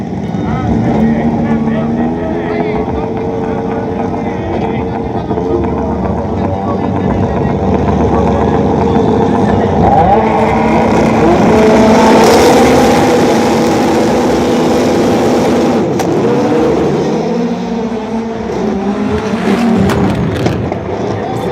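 Rallycross race cars at the Dreux circuit, heard from the onboard and trackside, engines droning loudly and shifting pitch as they rev and pull away at the start, under continuous commentary.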